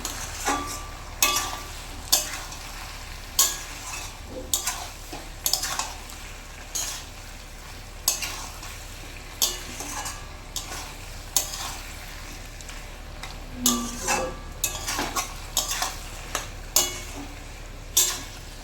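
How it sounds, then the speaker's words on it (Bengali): Fish head curry with chopped coriander stirred in a pan, repeated spatula scrapes and knocks at an uneven rhythm over a steady low sizzle, close and clear, no voices. "ধনেপাতা কুচিটা দিয়ে আমি ভালোভাবে নেড়ে ছেড়ে দেবো।"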